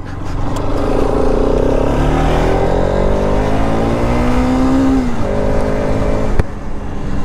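A Bajaj Pulsar RS 200 motorcycle engine drones steadily while ridden hard on a rough road, its pitch rising through a gear then dropping and climbing again, loud and close with wind rush.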